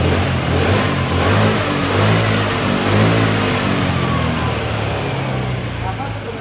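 A Honda Vario scooter engine revs steadily at close range, a loud continuous mid-pitched drone with slight rises and falls, easing off a little near the end.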